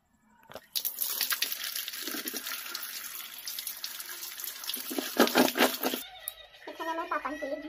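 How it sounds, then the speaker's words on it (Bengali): Jujube (ber) fruit being washed under running tap water, steady splashing and pouring close by, with brief handling noises and a short pause near the end. "এখন আরেকবার আমি ভালো করে এটাকে ধুয়ে নেব"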